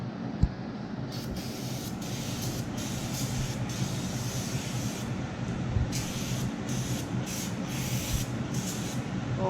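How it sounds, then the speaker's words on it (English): Brake cleaner sprayed onto a Subaru Outback XT brake rotor, several close hissing bursts of varying length, over a low background hum, with no talk. "Okay, clean the rotor up."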